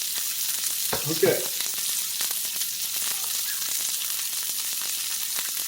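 Steady, crackling sizzle of a pork burger patty frying in a pan throughout, with a brief spoken word and a clatter early on.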